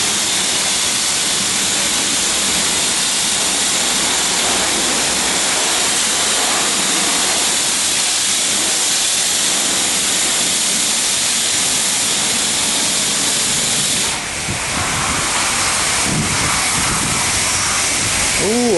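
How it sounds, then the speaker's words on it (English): A self-serve car wash wand sprays a spot-free final rinse over a car in a loud, continuous hissing rush of pressurized water that shifts slightly as the spray moves across the bodywork. "now he's using spot-free final rinse here."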